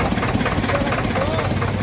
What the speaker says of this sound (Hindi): तो भाई ये 2 सिलेंडर ट्रैक्टर है ये देख लो